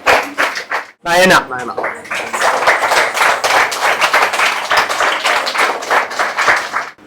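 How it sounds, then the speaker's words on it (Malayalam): Audience at a Malayalam community celebration program clapping, rapid dense applause running almost the whole time after a short spoken word and brief pause near the start, loud and close. "അപ്പൊ നല്ലൊരു ക്ലാപ്പ് എല്ലാരും കൊടുക്കും."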